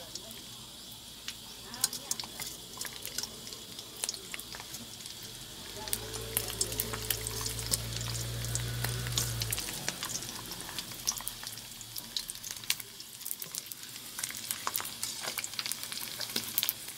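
Pork skin sizzles and spits in a hot frying pan of oil for Thai-style crispy pork, a steady broadband crackle throughout with a louder burst midway as more skin goes in; someone talks over it.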